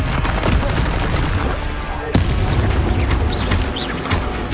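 Spell combat in the Hogwarts Legacy video game: a continuous loud barrage of magical blasts, booms and crackles, with one sharp crack standing out midway and no pause in the noise.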